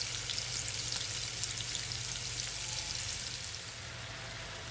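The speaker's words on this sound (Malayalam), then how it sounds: "ഒരു 5-6 മിനിറ്റ് ഒന്ന് ഫ്രൈ ചെയ്തെടുത്താൽ മതി." Prawns fry in hot oil for a Thalassery prawn biriyani, a dense, even crackling sizzle close by that holds steady and eases slightly toward the end, with no voices.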